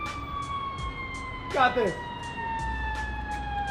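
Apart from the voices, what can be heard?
ambulance siren passing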